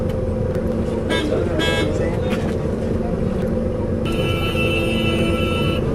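Tour bus rolling through busy Delhi traffic, a steady low engine rumble with surrounding road noise, brief horn toots and a sustained horn blast near the end, voices talking over it.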